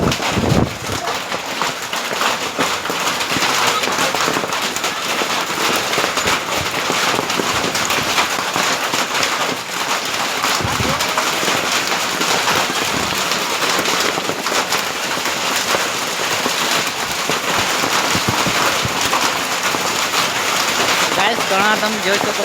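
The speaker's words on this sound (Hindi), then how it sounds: "तो गैस काठियावाड़ के अंदर कड़ा पड़ रहा है।" Hail falling hard outdoors in Kathiyawad: a loud, dense, continuous clatter and hiss that keeps going with no break and stays near. It is mixed with occasional sharper impacts.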